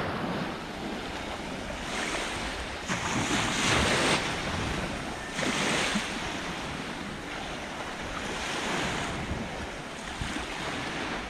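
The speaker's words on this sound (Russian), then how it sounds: "Ветерок немного дует." Steady wind blowing off the sea rushes over the microphone on a beach at Lazarevskoye, Sochi, with surf washing in the background, gusts swelling and easing throughout, no voices.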